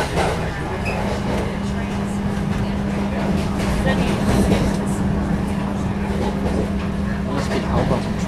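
New Jersey Transit train heading to Hoboken, heard from aboard an Arrow III electric multiple-unit, gives a steady rumbling roar with a sustained low hum throughout, close and continuous with no clear break.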